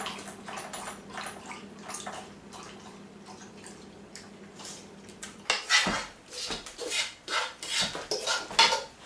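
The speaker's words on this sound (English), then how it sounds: "So just kind of layer in the pan. You want to kind of slightly overlap them." Slices for a tartiflette are laid into a pan with light clinks and scrapes. The handling is soft and scattered at first, then grows busier and louder clattering toward the end, with no talking.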